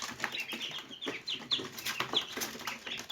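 Chickens on a small farm give repeated short clucks close by, mixed with light rustling and scattered wing-flapping, with no voices.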